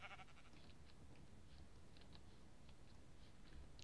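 A sheep in the Minecraft video game bleats in a quick opening burst, followed by faint scattered clicks from gameplay, all at very low volume with no voices.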